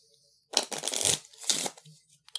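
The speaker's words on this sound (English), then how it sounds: "He'll go ahead and put this back in and shuffle back up." A Dark Souls card game deck is shuffled by hand in two quick bursts of riffling and sliding cards, close and fairly loud, with a brief card tap at the end and no talk.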